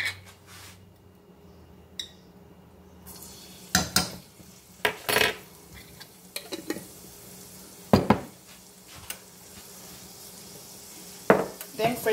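Fresh garlic tipped into a pan for a banana heart and coconut milk salad: scattered clanks of a metal utensil against the pan over a low sizzle, with quiet gaps between the knocks.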